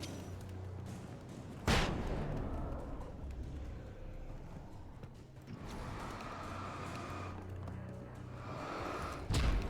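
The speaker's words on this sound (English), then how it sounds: "Throwing the flashbang over here" A flashbang blast in the Alan Wake video game: a sharp, loud bang early on, followed by rumbling game noise, then another burst of impacts near the end.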